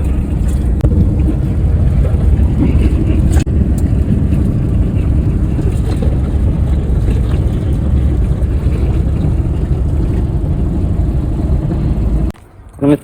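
A heavy, steady low engine and road rumble fills the interior of an intercity bus travelling on a highway in Kazakhstan, with faint rattles, before a brief sharp disturbance near the end.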